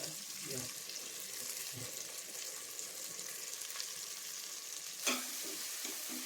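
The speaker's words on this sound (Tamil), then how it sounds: "நல்லா வதக்கலாம் மக்கள்" Tomatoes sautéing with a sprinkle of rock salt in a pan for a country chicken curry, a soft, continuous low hiss of frying with a few faint stirring clicks and one sharper clink near the end.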